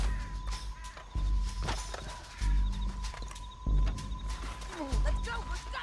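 Horse hooves clopping in Red Dead Redemption 2, a steady run of hoofbeats with the odd whinny, mixed with game effects and people talking over them.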